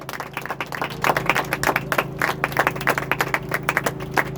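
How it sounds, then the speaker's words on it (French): Audience clapping at a graduation ceremony, a modest crowd with individual claps clearly distinct, building slightly and holding for a few seconds beneath a steady low hum. "Sous vos applaudissements encore."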